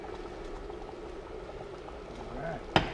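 Turkey chili bubbles in a cast iron pot on an induction cooktop, a soft, steady simmering blip and pop close by, ending in a brief sharp clunk.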